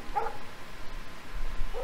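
A dog barks in the video game Life Is Strange, two short distinct barks a moment apart, heard at moderate distance against quiet game ambience.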